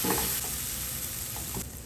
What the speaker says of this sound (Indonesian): Tumis bumbu yang pedesnya.